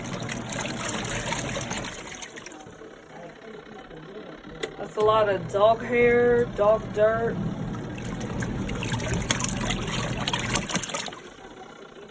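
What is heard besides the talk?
portable washing machine running with water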